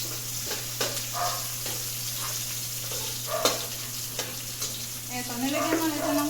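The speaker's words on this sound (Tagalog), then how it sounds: "Sabang yung sibuyas" Onions sautéing in a pan for pancit, a steady sizzle with occasional scrapes and stirring knocks, close and moderately loud with no talk.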